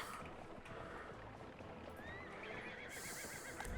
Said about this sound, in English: our fire horse has arrived